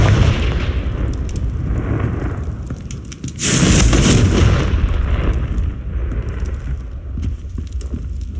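A Confringo spell explodes in the video game Hogwarts Legacy. A single loud, booming blast bursts out partway through over a steady rumbling game ambience.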